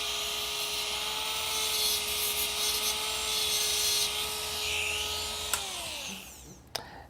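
A Diashine polisher runs lightly over a dental restoration, giving a steady high-pitched rotary whine with a constant tone that winds down near the end, then a couple of sharp clicks.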